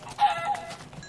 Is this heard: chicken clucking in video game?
yes